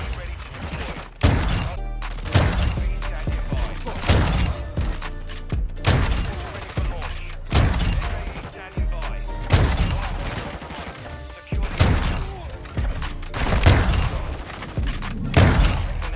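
Sniper rifle gunfire in the video game Modern Warfare 2, a series of sharp heavy shots spaced a second or two apart, each with a booming tail, mixed with clattering game sounds and bits of talk.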